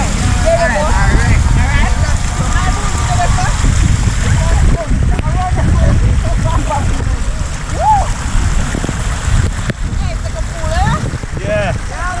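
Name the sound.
water rushing and splashing at Tacky Falls, Jamaica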